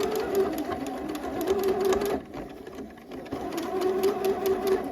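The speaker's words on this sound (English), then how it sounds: "I'm going to back stitch" A home sewing machine back-stitches a rolled seam on a garment, whirring steadily in close, even runs. A short pause and a slower stretch come midway before the stitching speeds up again.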